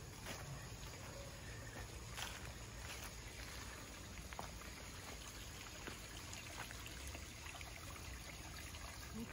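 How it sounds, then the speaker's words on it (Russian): Small waterfalls and a trickling stream in a leafy, shaded city park give a steady, fairly faint wash of running water that continues without a break. "С водопадиками, ручейками."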